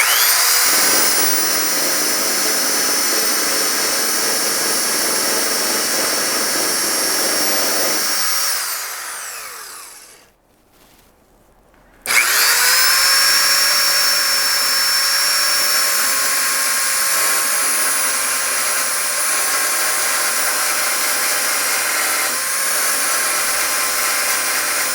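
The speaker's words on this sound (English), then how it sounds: "I'm going to touch these up probably with just a 1/2 inch by 18 inch sander." A 1/2 by 18 inch belt sander works a custom steel firewall for a Chevy Astro hydroboost mount, roaring loud and steady up close, cutting out briefly midway, then spinning back up and running on.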